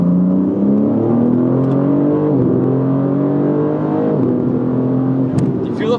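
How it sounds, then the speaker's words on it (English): A BMW G80 M3 accelerating in third gear on track, its engine droning with rising, shifting harmonics and a continuous high tire squeal layered over the motor, loud and close throughout. "your tires are loud"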